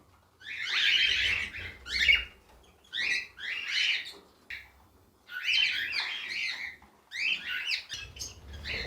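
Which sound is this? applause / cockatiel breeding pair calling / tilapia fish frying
cockatiel breeding pair calling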